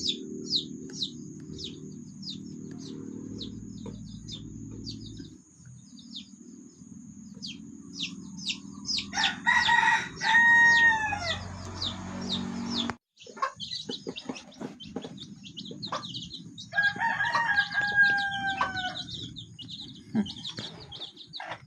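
Hens and a rooster pecking at termites outdoors, with repeated clucks, a loud nearby crow and bird chirps over a low rumbling background.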